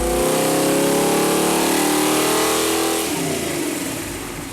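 A Mopar 360 V8 street engine on a dyno holds a loud, sustained high-rpm rev with a rich harmonic roar, then winds down near the end as the throttle closes.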